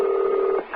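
Telephone keypad dialing an emergency number: a steady electronic tone held for most of the moment before it breaks off, followed by a brief softer tone, with no talking.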